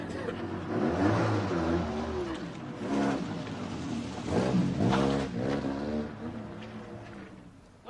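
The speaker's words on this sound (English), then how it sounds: "that's a pretty rough old banger you bounce about in" An old rough car pulls away, its engine revving up and changing pitch as it accelerates, fairly close and loud, with a brief burst of noise at the end.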